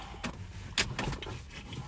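A car's electric power window rolling down in winter with the engine off, a short motor whir with a couple of brief clicks and a thunk.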